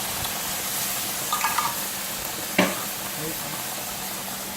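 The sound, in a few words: mushrooms added to a sizzling pan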